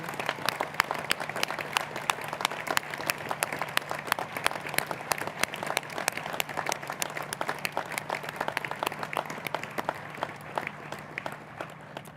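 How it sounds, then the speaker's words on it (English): Sustained audience applause at a graduation ceremony, dense steady clapping from many hands filling the hall throughout, with no talking over it. "a massive round of applause, please"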